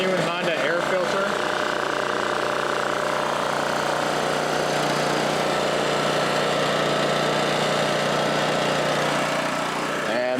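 A Honda EM650 generator with a new genuine Honda air filter runs smoothly up close, giving a steady, loud engine drone with no skips across the whole stretch.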